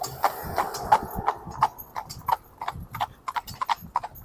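A young horse's hooves clip-clop steadily as it moves round freely on its own path, with an uneven loping rhythm of soft thuds close by, and no talking over it.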